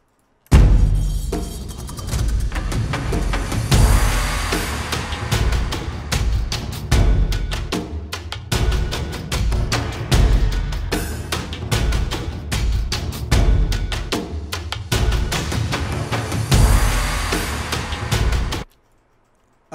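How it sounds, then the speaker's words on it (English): Booming orchestral drums pound in a heavy driving rhythm with crashing cymbals layered on top, loud and full, ending abruptly. "the orchestral drums sound like this"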